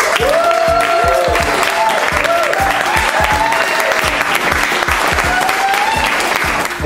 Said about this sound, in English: So a big round of applause for Todd Sawyer and Pamela Georgette